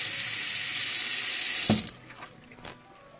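Cold water gushes loudly from a tap in a steady stream, then cuts off abruptly, leaving a few faint drips and splashes.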